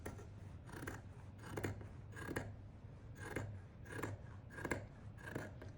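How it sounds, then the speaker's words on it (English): Scissors cut steadily around a heart-shaped pillow fabric outline, giving soft, evenly spaced snips about twice a second, close but quiet. "So I'm gently going to cut all the way around."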